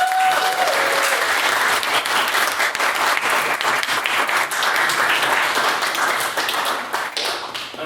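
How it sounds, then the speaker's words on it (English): Loud, sustained applause from a debate audience fills the room for the whole stretch, dense rapid clapping that thins slightly toward the end. "if we could get a second round of applause for Mr."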